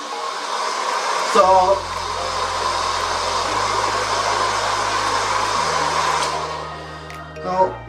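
A handheld hair dryer blows steadily on a repaired canvas picture, a loud continuous whooshing hum that shifts pitch slightly a few times as it is moved, with a brief spoken word near the end.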